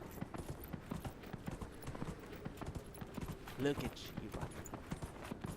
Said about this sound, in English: let's ride a horse